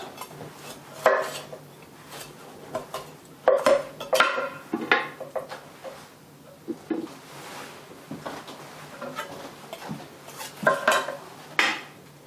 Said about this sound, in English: Cut a couple of ribs.